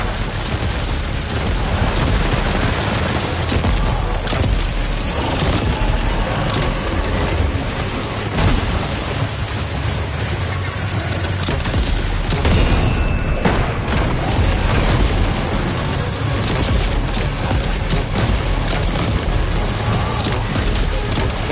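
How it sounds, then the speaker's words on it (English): Dense, continuous gunfire and booming blasts from a firefight in the video game Death Stranding 2: On the Beach, loud and sustained with no letup, rapid bursts layered over rumbling explosions. "Sam. Opening fire now."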